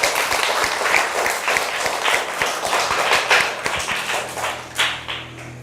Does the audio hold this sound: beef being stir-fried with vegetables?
no